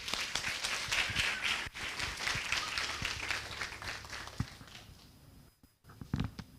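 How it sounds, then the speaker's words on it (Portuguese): A church congregation applauds together, a dense, steady wash of clapping that holds for about five seconds before thinning out into a few scattered claps. "Você pode aplaudir ao Senhor aí?"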